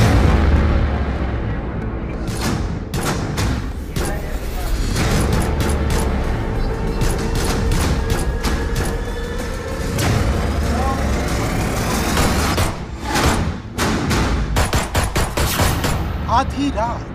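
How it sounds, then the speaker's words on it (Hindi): Rapid gunfire from masked attackers at night, captured by a CCTV camera in Uttar Pradesh: dense bursts of sharp cracks and bangs over steady background noise, with voices faintly mixed in. "रात के वक्त घात लगाकर नकाबपोश बदमाशों ने एक शख्स पर ताबड़तोड़ गोलियां बरसा दी।"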